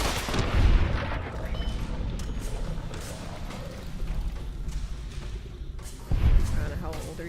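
Gunfire in the Fallout New Vegas video game, heavy booming shots with strong thumps near the start and again near the end, plus scattered shots and rumble in between, with voices talking throughout.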